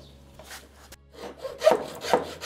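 A small crucifix is cut from reclaimed wood with a hand saw, the rasping strokes starting faintly and growing louder and closer in uneven pushes, with no talk over them.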